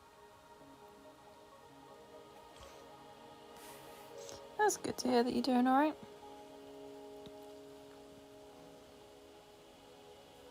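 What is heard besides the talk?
rain in the video game Wuthering Waves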